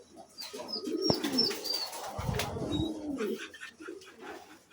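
Pigeons coo softly in a sunny outdoor loft, low throaty calls repeating over a rustle of wings and movement, with a few faint higher chirps, no talking.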